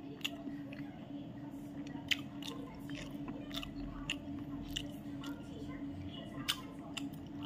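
Close, wet chewing of food during a meal, with repeated soft squishing and crunching bites over a low steady background hum and no clear speech.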